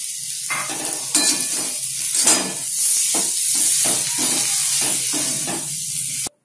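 Potato masala frying in a pan, a steady close sizzle broken by repeated scraping stirs in an uneven rhythm, loud and alone until it cuts off abruptly at the end.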